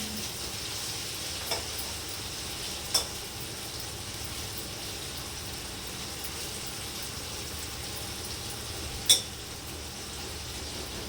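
Onions cut into rings and long-sliced green chillies fry in a pan with a soft, steady sizzle, with a few faint clicks and ticks.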